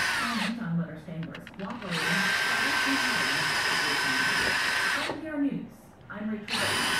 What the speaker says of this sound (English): I'm going to re-drill new holes here